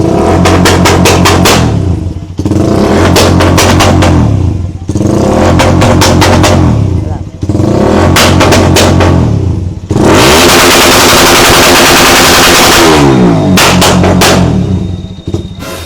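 Suzuki Raider 150 Fi motorcycle engine revved hard and loud up close, repeated bursts of throttle rising and falling with brief dips between, ending in a long sustained high rev that winds down.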